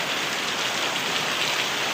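Heavy rain pours at night during a thunderstorm, a loud, dense and unbroken roar of water with no talk over it.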